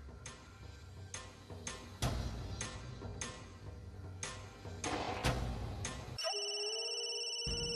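A telephone bell rings in loud repeated bursts in a Marathi TV serial scene, then shifts to a steady electronic tone near the end, with no voices.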